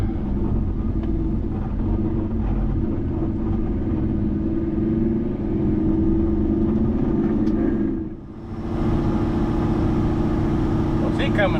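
A heavy hauling truck engine idles low as it rolls slowly over humps and bumps in the rain, a loud continuous droning rumble that briefly dips before resuming, with speech tagged but no words transcribed.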